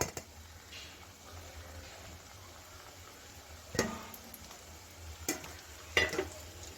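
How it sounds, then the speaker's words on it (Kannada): A fresh batch of gulab jamun frying in hot oil, a soft steady sizzle with a few sharper clinks and stirring scrapes, close and fairly quiet, with no talking. "ನೆಕ್ಸ್ಟ್ ಬ್ಯಾಚ್ ಹಾಕ್ಕೊಳ್ತಾ ಇದ್ದೀನಿ ಇದನ್ನು ಅದೇ ರೀತಿ ಫ್ರೈ ಮಾಡಿ ತಗೋಬೇಕಾಗತ್ತೆ"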